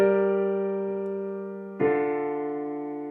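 Piano chords from a progression with the five chord played as a minor, two sustained chords struck close and clear, the first ringing and decaying before the second lands.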